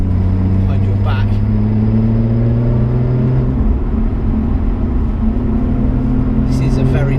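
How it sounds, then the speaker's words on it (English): A Lotus Evora sports car engine drones steadily on a wet road, its pitch shifting as it revs and changes gear, with a deep exhaust rumble throughout and speech over it. "I love the fact you can hear a bit of the engine behind your head as well,"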